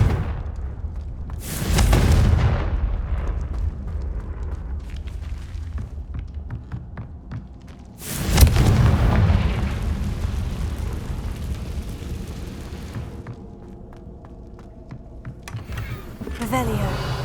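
Confringo blasting spell in Hogwarts Legacy, two loud booming explosions a few seconds apart, each decaying into rumbling debris, amid game effects and background noise.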